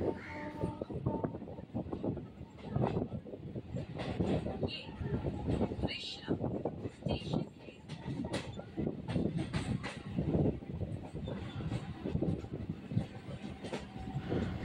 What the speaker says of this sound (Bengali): ট্রেন এখন নিজের গতিতে ছুটে চলেছে।